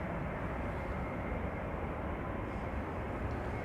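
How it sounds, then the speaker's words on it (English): A KLM Airbus A330-300 airliner gives a steady, broad jet roar with a low rumble, sustained and even for the whole stretch, with no voices. "This is KLM flight 661 to Houston or Houston in Texas. Airbus A330-300."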